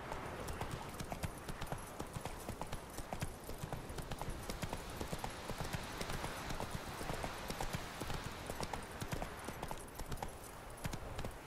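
The horse Roach trots steadily in The Witcher 3, with a continuous, rhythmic clip-clop of hooves that stays close and clear throughout, with a faint voice now and then.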